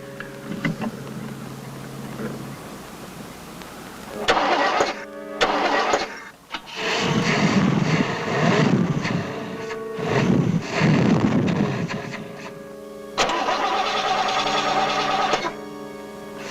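A car engine is cranked and started, loud and close, with a steady churn giving way to several separate bursts of engine noise and brief gaps between them. No one speaks.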